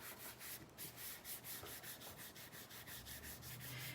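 An adhesive stencil is rubbed onto a Dollar Tree sign in quick rhythmic back-and-forth strokes, a steady close scratchy swishing with no talk.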